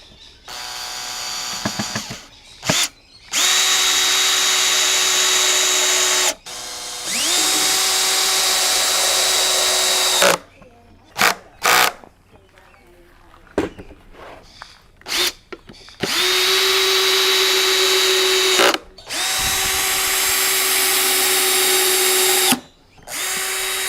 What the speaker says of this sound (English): make sure if you're using a drill gun that you put your torque settings to a very low setting